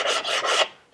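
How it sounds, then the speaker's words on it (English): Three quick rasping strokes of a sanding block with 80-grit sandpaper rubbing across a wooden chair's rear leg, close and distinct, fading into quiet. "I just grabbed a sanding block with some 80 grit paper on it."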